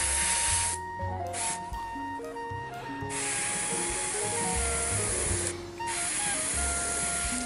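An aerosol spray can mists paint onto a miniature figure in close, loud hissing bursts, with brief pauses between sprays.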